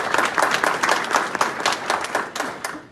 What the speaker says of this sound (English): I want to give a round of applause for them,